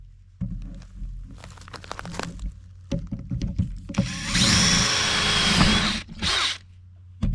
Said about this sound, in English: We'll have to drill that out.